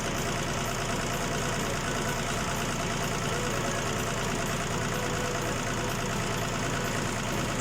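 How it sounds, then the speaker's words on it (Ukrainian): A tractor engine runs steadily through the whole stretch, a constant droning idle with a faint knocking rumble, moderately loud and with no talk over it. "Я трошки керую трактором."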